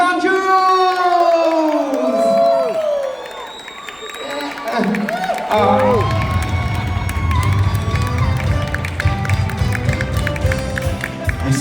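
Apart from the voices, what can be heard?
crowd cheering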